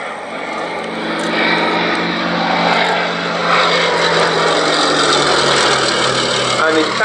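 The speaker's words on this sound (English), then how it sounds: "This particular Lysander was actually built as a target tug" Westland Lysander propeller aircraft, a former target tug, flying at the Shuttleworth Fly Navy airshow; a loud, droning piston engine with a steady propeller hum rising and holding, a voice speaking over it.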